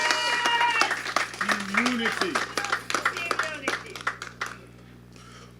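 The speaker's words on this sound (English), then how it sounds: "Give your government a round of applause." Audience claps at a dental clinic recommissioning ceremony, with sharp, scattered claps over a speaker's voice that thin into separate strokes and then stop. Someone says a word partway through.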